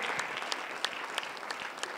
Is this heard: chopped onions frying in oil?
no